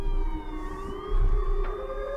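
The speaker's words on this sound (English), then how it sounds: "Some people absolutely love sirens." A tornado siren wails in one long, loud, steady tone that shifts slightly in pitch, heard alone with a low rumble underneath.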